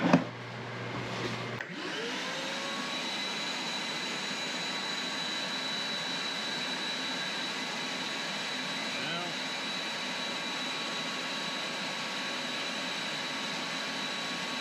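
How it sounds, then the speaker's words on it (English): A shop vacuum switches on and keeps running, pulling air through a homemade downdraft sanding table. After a brief thump it settles into a loud, steady whining roar that stays constant to the end. "the old shop vac hose goes right in there. And if we turn it on,"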